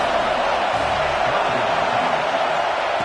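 A stadium crowd in an American football video game roars steadily on third down, a dense, continuous wash of cheering and whooping without a break.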